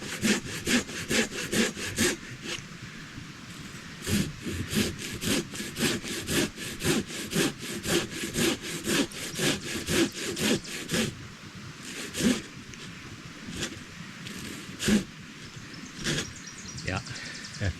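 A Katanaboy 500 hand saw with large teeth cuts through a tree on a trail, giving steady, rhythmic rasping strokes of wood sawing up close, with brief pauses and occasional faint talk.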